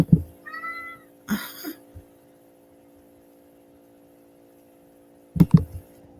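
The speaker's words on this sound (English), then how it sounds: "Was that a cat?" A cat gives a single short, clear meow over a steady low electrical hum, with a few brief clicks and bumps before and after.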